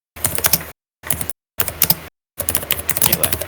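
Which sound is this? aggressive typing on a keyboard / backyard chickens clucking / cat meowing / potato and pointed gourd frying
aggressive typing on a keyboard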